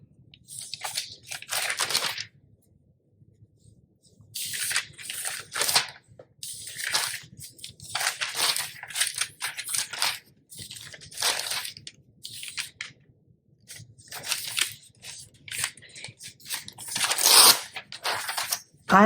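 Scissors snip through a glossy magazine page to cut out a single word, a run of crisp paper crunches and crinkles in short bursts with brief pauses, close and fairly loud with no talking.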